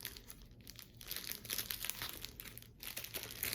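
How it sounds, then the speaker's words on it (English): A small plastic bag from a weaving art kit is opened close up, giving a steady, quiet crinkling and rustling of thin plastic with soft tearing crackles, and no voices. "another thing that you're going to get in your kit is this little plastic bag"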